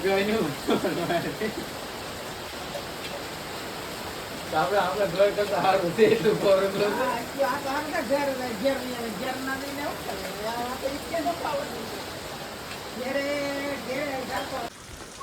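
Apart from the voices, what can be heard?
heavy rain falling on tin roof sheets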